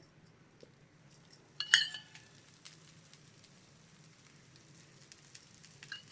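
Dosa cooking on a hot pan over a slow flame with oil drizzled on top, giving a quiet, steady sizzle with a brief louder crackle and a few faint clinks of a ladle against the pan.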